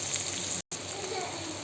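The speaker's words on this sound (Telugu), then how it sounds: "ఆయిల్ వేడెక్కింది. ఉల్లిపాయలు వేస్తున్నాను అదే బాండీలో." Onions dropped into hot oil in a kadai for cauliflower pakoda seasoning give off a steady, dense crackling sizzle throughout, broken by one brief silent gap, with no one speaking.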